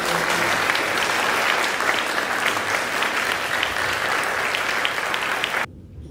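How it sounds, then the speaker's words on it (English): An audience at a Heartfulness event applauds its panelists with loud, continuous, dense clapping that holds steady for several seconds and then cuts off abruptly into near silence. "A round of applause for our panelists."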